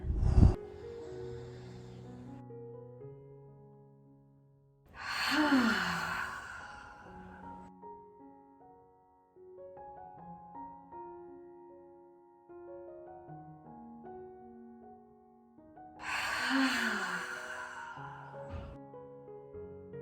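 Ha breathing exercise: a deep inhale followed by a forceful, breathy exhale, repeated twice over soft sustained background music, each exhale a loud rushing burst that fades.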